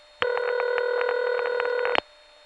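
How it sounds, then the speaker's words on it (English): A Crossbar 5 type fake telephone ring tone from a Lorraine Products retrofit on a #5 Crossbar line: one steady, buzzy ring burst about two seconds long with a warbling pulse, clean and loud, then it stops abruptly. "the Crossbar 5 type ring"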